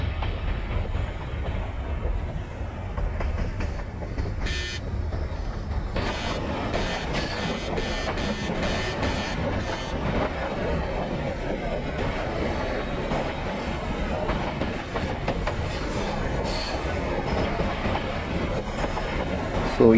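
Simulated train running on track in the MSTS train simulator game, a steady continuous rumble with rail clatter throughout, loud and alone with no talk.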